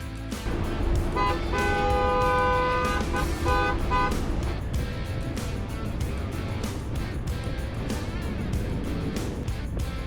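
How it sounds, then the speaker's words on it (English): Cars queued at the Montenegro border crossing honk their horns in long sustained tones, layered with steady traffic and engine noise, the horns clearest in the first few seconds before fading into a dense rumble. "The line of cars was slow, the horns were constant"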